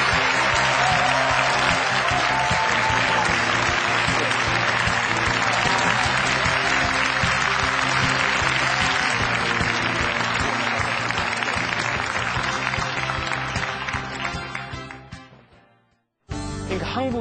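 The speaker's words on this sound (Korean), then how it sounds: "여러분, 어윤대 위원장님을 힘찬 박수로 맞이해 주십시오." An audience gives sustained, loud applause welcoming the chairman of Korea's Presidential Council on Nation Branding to a lecture on national brand strategy; dense clapping fills the hall and tapers off near the end before cutting out.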